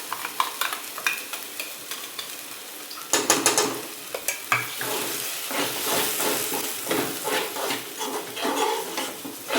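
Tomato gravy sizzles in a pan as mixed masala is stirred in for chicken tikka masala, a steady frying hiss with repeated clacks and scrapes of a spoon, busier in the second half.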